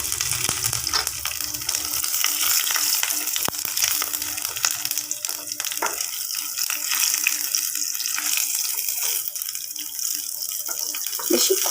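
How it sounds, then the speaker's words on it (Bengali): Black mustard seeds and slit green chillies sizzle in very hot, smoking oil for a Bengali chilli fish curry tempering, a steady loud hiss of frying that runs throughout with a few sharper crackles and no talk. "তেলটা গরম হয়ে গেছে, আমি কালো সর্ষে আর কাঁচা লঙ্কা চিড়ে দুটো দিয়ে দিলাম ফোড়নের জন্য।"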